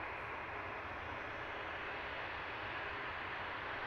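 An EasyJet Airbus A319 airliner at London Luton Airport gives a steady, broad roar of jet engine noise with no variation, heard from some distance and fairly quiet, with no voices.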